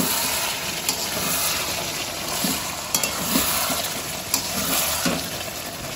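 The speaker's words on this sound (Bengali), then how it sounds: "মাটনটা কষানোর সময় একটু নাড়াও" Mutton kosha fries in red chilli spices in a pan, sending out a steady loud sizzle and hiss with occasional scraping knocks as it is stirred, close up and continuous throughout.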